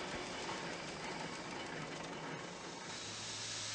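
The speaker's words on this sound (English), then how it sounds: "Steam locomotives were also developed and were used to build up a railway network" A steam locomotive train runs along a railway with a continuous rushing, rumbling roar and faint rhythmic clatter. The sound is loud and steady throughout, with no voices.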